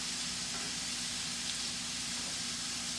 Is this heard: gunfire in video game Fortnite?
no